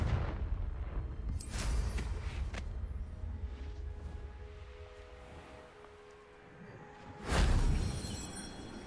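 A Confringo explosive spell cast in Hogwarts Legacy, heard as a whooshing burst and muffled booms early on, then a louder blast near the end, with quieter ambient game sound between.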